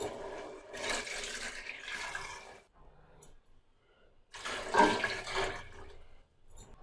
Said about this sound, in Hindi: अब इसमें 4 गिलास पानी शामिल करेंगे